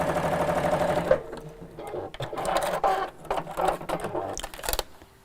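A sewing machine stitches slowly around a curve in short bursts with pauses between them, close and clear.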